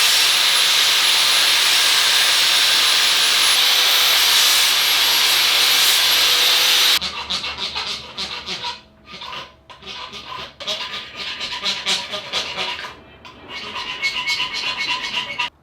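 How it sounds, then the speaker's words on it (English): An angle grinder rounding off a metal part for a 1969 Porsche 911 build screams steadily and loudly for about seven seconds, then gives way to quieter scraping and clattering handling noises. "I'm just going to use a grinder and kind of hit this thing around the outside here"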